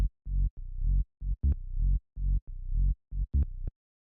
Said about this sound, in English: The next sound we have here is the bass,